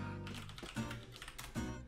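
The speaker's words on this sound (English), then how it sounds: "I was typing in the Discord." Fingers type on a computer keyboard in quick, irregular bursts of soft clicks and taps, close and quiet under a low hum.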